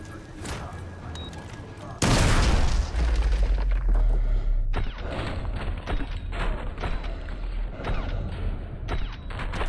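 A breaching charge blows in a video game firefight: a sudden loud boom about two seconds in, followed by a rolling rumble and then scattered bursts of gunfire and clattering mechanisms.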